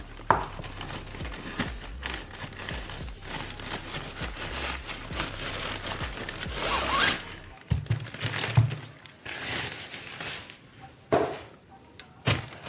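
The zipper on a water-resistant fabric tripod carrying bag is pulled open in a long rasping run, followed by rustling and crinkling handling noises, close up.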